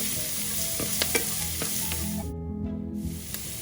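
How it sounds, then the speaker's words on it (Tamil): Green chillies and curry leaves sautéing in a pan with onions for a beans poriyal, giving a loud, steady close sizzle with light stirring scrapes throughout. "அப்புறம் கருவேப்பிலை, இது எல்லாத்தையும் நல்லா வதக்கிடுவோம்."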